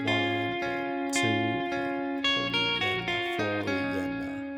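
Electric guitar with overdrive plays the intro riff of a song, sustained bright notes over repeated low picked figures, steady and close, with a voice faintly counting the beat underneath.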